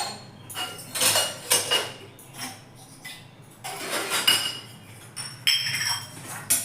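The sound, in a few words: dishes and utensils being put away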